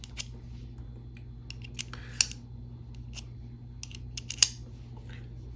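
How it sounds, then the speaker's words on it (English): Screwdriver bits pulled from and snapped into the magnetic holder of a cheap plastic screwdriver, two sharp metallic clicks standing out among softer small handling ticks against a quiet room hum. "So you pull one out and you put another one in, and you can hear it's magnetic"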